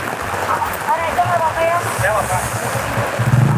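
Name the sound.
rain falling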